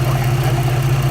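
Dodge Nitro R/T 4.0 engine idling with a low steady hum and a faint rhythmic knock from the crank pulley area, close and alone.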